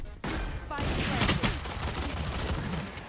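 Rapid bursts of gunfire from the video game Valorant, a loud continuous volley of shots with sharp cracks, while a player talks excitedly over it.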